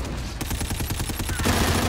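Rapid automatic gunfire from a first-person shooter video game, with a fast, loud burst of repeated shots that lasts under two seconds.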